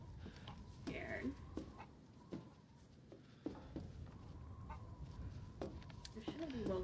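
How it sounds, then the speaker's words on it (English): Chickens clucking in the horror game Resident Evil Village: scattered, short clucks rise over a dense, rumbling game soundscape, with a voice talking at times. "Oh my god, a chicken!"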